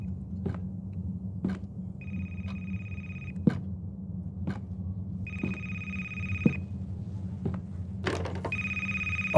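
Telephone ringing in the horror video game A Place, Forbidden, heard as three bursts of an electronic bell ring over a low droning ambience, with sharp periodic thuds or footsteps throughout; the last ring is louder and closer.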